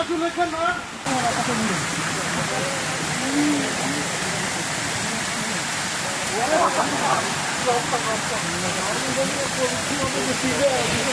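Phultoli waterfall near Sitakunda pours in a steady, broad rushing roar close by, with people talking over it now and then.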